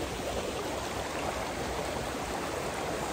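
A river runs through the mossy forest of Yakushima, a steady, dense rush of flowing water heard up close that fills the whole clip without pause.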